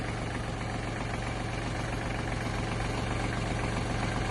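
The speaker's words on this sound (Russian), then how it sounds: "Трактор работает мягенько." Kubota Japanese mini tractor with a cab and rotary tiller, its engine idling smoothly with a steady low, even chug at close range and no talking.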